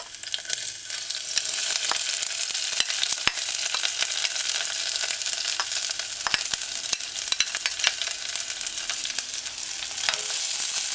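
Sliced onions sautéing in a pan on a medium-low stovetop for a red cabbage broccoli coconut stew, a loud, dense crackling sizzle with constant spitting pops, steady throughout with no speech.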